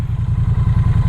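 A Triumph Street Twin 900cc parallel-twin motorcycle engine idling close by, a loud, steady low-pitched thumping pulse with an even, rapid rhythm throughout.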